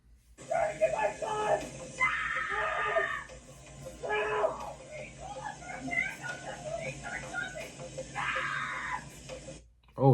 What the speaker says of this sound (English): Oh, that's her screaming.